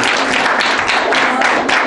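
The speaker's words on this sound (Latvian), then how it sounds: "Lūdzu ar aplausiem." Audience at a school quiz contest final applauding steadily during an award announcement, a dense, loud wash of clapping filling the room.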